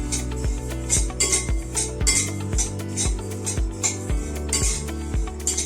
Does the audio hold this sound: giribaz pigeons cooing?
no